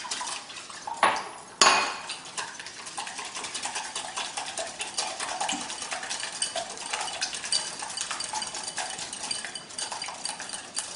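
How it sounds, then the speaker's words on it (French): Eggs are whisked into melted butter and milk in a bowl, opening with a couple of sharp clinks against the rim, then continuous quick stirring and scraping close by. "Je mélange mes œufs."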